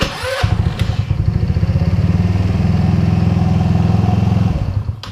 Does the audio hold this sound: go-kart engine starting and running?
yes